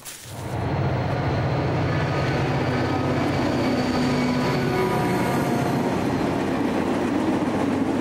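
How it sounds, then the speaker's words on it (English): Push-pull commuter train bound for a Brunswick stop rumbles by, swelling in within the first second and then holding a loud, steady roar of wheels on rails with faint squeal. "Push-pull commuter train heading for a stop in Brunswick, a few miles up the path."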